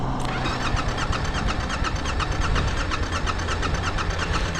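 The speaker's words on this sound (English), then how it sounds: "So maybe I move the throttle. So we'll give her full throttle." A Yamaha Tenere 700 motorcycle engine runs hard at full throttle, a loud, steady roar with a dense rapid pulse holding for nearly five seconds, no talk over it.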